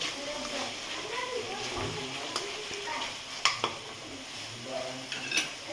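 Capsicum being stirred into sizzling spices in a pan for a palak kaju curry, with scraping spoon strokes, metallic clinks against the pan and steady frying hiss.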